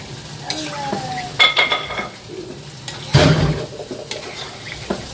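Cooking water is poured into a pan of sautéed vegetable curry, a brief gush and splash over a low sizzle, then clanks of utensil on pan and a second surge of bubbling, nearby and fairly loud with no speech.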